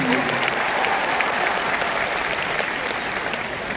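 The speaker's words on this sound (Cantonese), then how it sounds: "掌聲！" Loud, dense applause from a large concert audience at a LAVA live show, sustained and steady throughout with a voice speaking over it.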